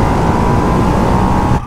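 A Ducati Hypermotard 698 Mono motorcycle engine drones loud and close at a steady pitch during a ride, then cuts off abruptly at the end. Distinct exhaust pops are hard to pick out.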